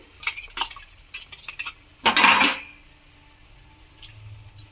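A spoon clinks and scrapes against a pan while spice paste and hot water are stirred, with several sharp taps and one longer burst of scraping and sizzle, close and fairly quiet.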